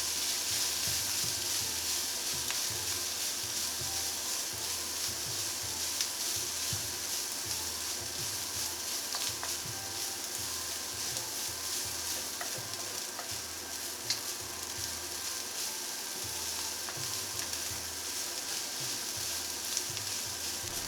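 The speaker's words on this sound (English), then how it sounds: "Now give that a good mix until the soy sauce has coloured all of the rice." Egg fried rice with soy sauce crackles steadily in a hot pan while a utensil stirs and scrapes in a regular rhythm, close and continuous, with no talking.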